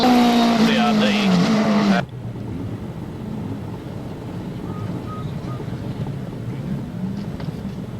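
Racing cars at Winton Motor Raceway in Victoria, Australia: a loud, close engine wail drops in pitch, cuts off sharply after two seconds, and gives way to steady rushing wind and distant motor noise.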